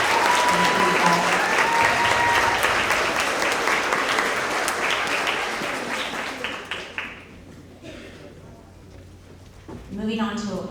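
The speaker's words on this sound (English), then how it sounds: "Another round of applause for all these kind students." Sustained audience applause at a 6th–8th grade end-of-year school award assembly fills a large room, loud and steady for about seven seconds before thinning out, followed by a voice near the end.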